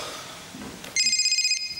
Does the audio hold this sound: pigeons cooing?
no